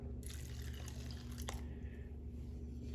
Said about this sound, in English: So you just add some water.